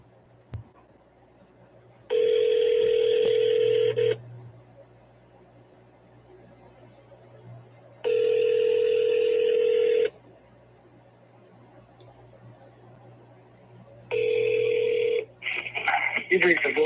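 Three bursts of touch-tone dialing on a phone while placing the next cold call, each burst about two seconds long and evenly spaced, with a voice creeping in near the end.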